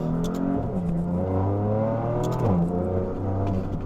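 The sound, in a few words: modified 2017 BMW M3 Competition accelerating with quick gear shifts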